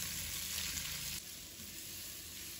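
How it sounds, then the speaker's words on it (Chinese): Chopped purple onion and minced garlic sizzle steadily in a wok over high heat, a loud, continuous frying hiss with no talking. "这时候转大火炒"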